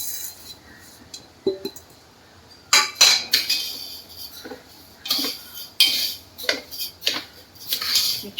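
Raw mango pieces and sugar being stirred in a pan, a spoon scraping and clinking against the metal in irregular bursts of close, fairly loud taps and scrapes, with quieter gaps between.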